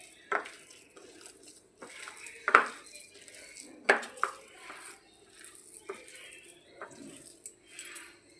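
Chicken kebab mixture being kneaded by hand with sattu and ghee in a bowl, giving soft irregular squelching and patting, with a few sharper knocks of utensils against dishes. No talking.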